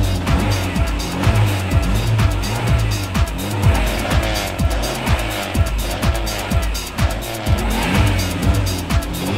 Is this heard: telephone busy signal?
no